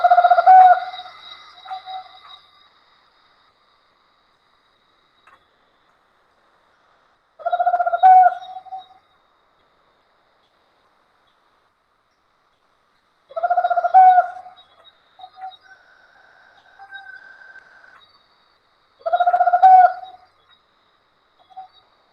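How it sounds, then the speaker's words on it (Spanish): A tropical screech owl (currucutú) calls in four spaced bouts of low hooting trills, each a short burst with a fainter tail, clear and fairly close against a quiet background. "Aquí tenemos el currucutú o Megascopio oliva"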